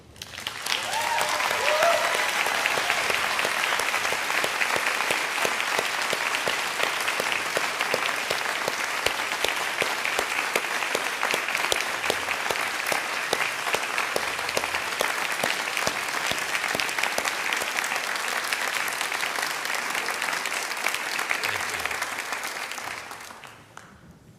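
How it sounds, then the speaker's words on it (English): Sustained applause from a large graduation audience on their feet, a dense, steady wash of clapping that holds at full strength for over twenty seconds before tapering off at the end. "Can I ask you now to be upstanding to applaud your friends and relatives and supporters"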